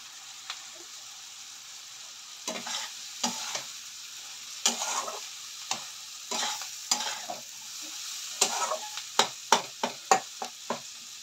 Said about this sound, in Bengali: ভালো করে নাড়িয়ে চাড়িয়ে দিই